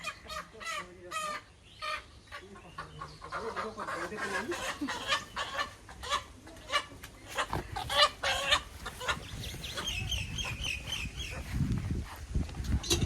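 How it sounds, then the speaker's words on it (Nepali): Several roosters clucking close by in a village yard, a busy run of repeated clucks and calls that overlap continuously, with some background noise and no talking. "सबै भाले हुन् ल"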